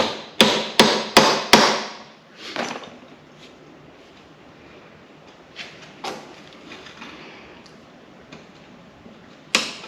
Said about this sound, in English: give it a good tap with a JIS screwdriver